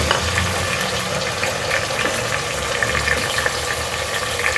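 Chopped onion, two tomatoes and garlic-ginger paste fry loudly in a pan for pumpkin halwa, a dense close sizzle with stirring clatter throughout, no voices.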